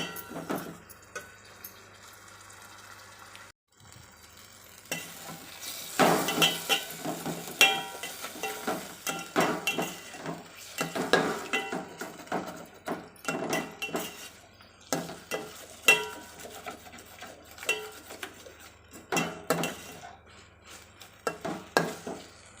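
Tomato and cashew paste being sautéed in oil, a soft sizzle under frequent scraping and clinking stirs of a spoon against the pan, irregular and close, continuing throughout with no talking.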